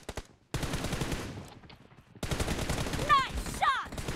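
Gunfire in a mobile battle royale shooter involving an M24 sniper rifle, a few sharp shots amid busy game ambience and chirpy effects, with a brief gap of quiet early on.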